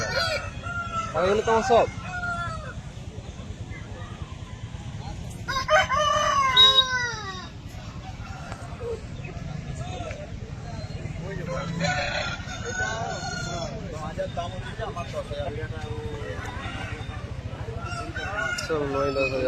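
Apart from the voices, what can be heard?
roosters and chickens crowing at a chicken market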